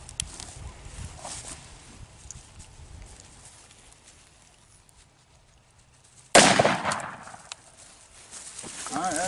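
A single loud, sharp .44 Magnum jacketed hollow point shot striking a steel block, a sudden blast with ringing decay after a quiet stretch where a voice talks faintly.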